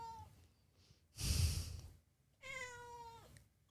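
A domestic cat gives a couple of distinct meows, with a breathy burst between them; the sounds are fairly close and stand alone, with no talking.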